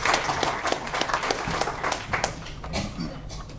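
A room at a South Africa–China engagements event breaks into applause welcoming an ambassador, scattered moderate clapping from a modest audience heard from within the crowd.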